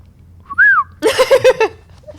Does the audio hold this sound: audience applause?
no